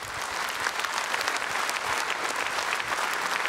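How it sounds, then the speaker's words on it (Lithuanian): Sustained applause from a concert audience welcoming police patrol officers and their dogs onto the stage at a charity show, dense and steady throughout with no speech. "Pasitikite plojimais"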